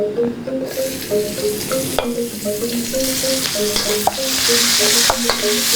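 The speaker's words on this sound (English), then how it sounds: "So now, let's fry them all. I'm using the same oil that I used earlier to fry the salted fish. First, I'm going to add shallot." Shallots fry in oil previously used for salted fish, a steady close sizzle with repeated stirring scrapes and a few sharp clinks, no voices.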